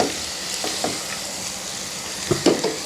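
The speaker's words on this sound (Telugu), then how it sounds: "కొద్దిసేపు ఇట్లాగే ఆయిల్లో మగ్గించి పెడదాం" Food sizzles steadily in hot oil in a pan while a chicken curry is prepared Rayalaseema style, with a soft continuous fry hiss and a few louder stirring scrapes near the end.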